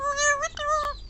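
A pet parrot imitates a cat's meow, giving two close, loud, tonal meow-like calls with rising and falling pitch, separated by a short pause.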